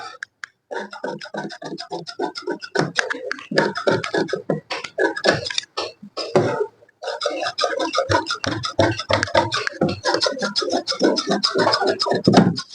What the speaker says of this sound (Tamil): ஃப்ரண்ட் பகுதியையும் ஒரிஜினல் நம்ம கரெக்டாக கிராஸாக போட்டு கட் பண்ணி எடுத்துக்கிடுவோம்